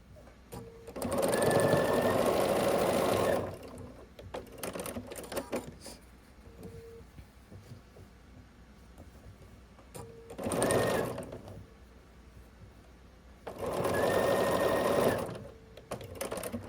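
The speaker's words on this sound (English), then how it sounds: "I would chain piece this, but I've made the other 3 and I'm just on the final block now" A sewing machine stitches quilt blocks for a mini quilt in three loud, steady bursts of a few seconds each, separated by quieter pauses filled with faint handling sounds.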